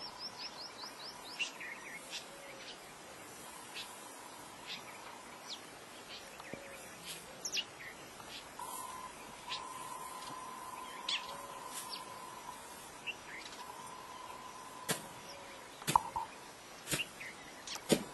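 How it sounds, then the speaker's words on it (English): Birds call around a nest outdoors at a distillation center, with faint scattered chirps and short repeated notes over a quiet hiss of background. "Can you see the bird building the nest?"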